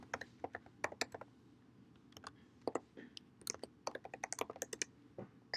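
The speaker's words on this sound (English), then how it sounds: "You have to type it in." Someone types on a computer keyboard in irregular bursts of crisp, close clicks with short pauses between runs, and no talking.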